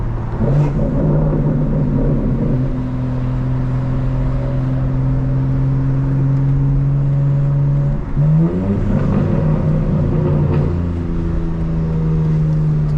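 A loud 2024 BMW M4 Competition xDrive's intake drones and rises steadily in pitch as it accelerates at night, with a brief dip and gear change midway before climbing again.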